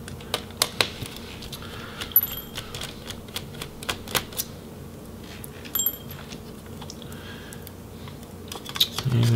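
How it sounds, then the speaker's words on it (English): Screws being removed from the cooling fan of an Acer Aspire 5 laptop: sharp, close, irregular small clicks and ticks of a screwdriver, with pauses and quiet handling noise between them. "So we'll go ahead and remove the screws for the fan."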